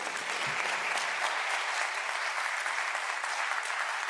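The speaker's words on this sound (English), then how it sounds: "a round of applause for our panel" A conference audience at a high-level meeting session gives a steady round of dense clapping for a panel. The applause is loud and even throughout, with no voices over it.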